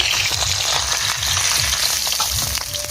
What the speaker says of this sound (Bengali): কড়ার মধ্যে তেল দিয়ে দিচ্ছি। মাছের মাথাটাকে ভেজে নেব।